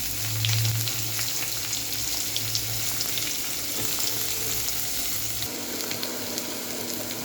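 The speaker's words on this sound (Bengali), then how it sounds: "এবার আমি এতে পেঁয়াজ দেবো।" Onion tossed into hot oil with dried chilli and cumin sizzles steadily in a pan, a close, continuous frying hiss with faint stirring scrapes and no voices.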